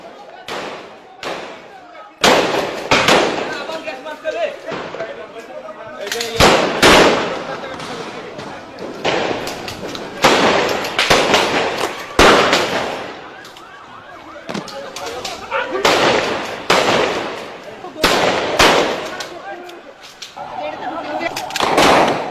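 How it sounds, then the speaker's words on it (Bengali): Rapid gunfire, tear gas shells and grenade blasts crack and boom one after another through a night-time street clearance in Motijheel, Dhaka, in 2013, loud, close bursts with echoing rumble between them. "হাজার হাজার রাউন্ড গুলি, টিয়ার শেল, গ্রেনেডের মুহুর্মুহু শব্দে প্রকম্পিত হয়ে ওঠে রাতের মতিঝিল"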